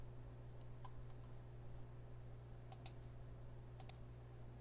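Faint, quick mouse clicks in small pairs while working with a V-Ray physical camera in 3D software, set against a quiet steady electrical hum.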